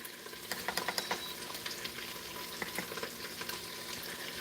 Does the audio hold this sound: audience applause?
no